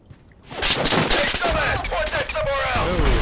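Gunfire in a Squad video game battle as troops shoot at an enemy tow: a loud, sustained fusillade of rapid shots and machine-gun bursts, with a voice talking over it.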